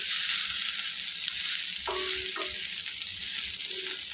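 Moringa leaves sautéing in hot oil, a loud continuous sizzle with a couple of brief utensil scrapes against the pan, with no voices.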